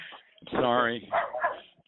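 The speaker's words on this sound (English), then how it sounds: "How rude to be near a barking dog during a podcast." Dog barking near a podcast recording, a short burst of loud, close whining barks and yips lasting under two seconds.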